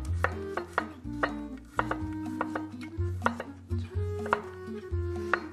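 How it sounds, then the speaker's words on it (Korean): Knife slicing garlic cloves into thin rounds on a cutting board, a quick irregular series of crisp taps against the board, close and moderately loud, with no voices. "마늘은 네. 편으로 좀 썰어서 좀 잘라주시고요. 이렇게 동그랗게 자르겠습니다."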